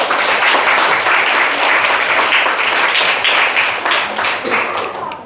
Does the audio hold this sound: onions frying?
no